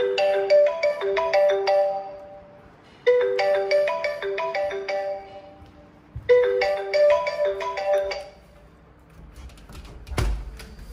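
A mobile phone ringtone plays a repeating electronic melody in three bursts, fairly close and clear over faint room noise, followed by a thump as the phone is picked up.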